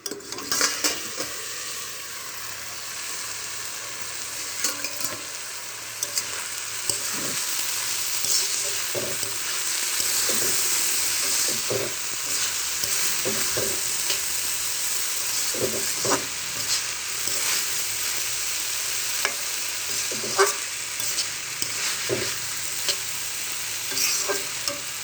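Potatoes and onions fry in a pan with a steady sizzle while a spoon or spatula stirs them, scraping and clicking against the pan in irregular strokes throughout, close up and with no talking.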